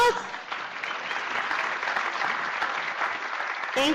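A conference crowd claps steadily for a few seconds, the applause sustained and even before it cuts off at the end.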